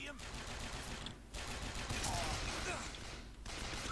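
Dense, sustained gunfire in the video game Bioshock Infinite, rapid continuous bursts filling the whole stretch at steady loudness, with a brief dip partway through.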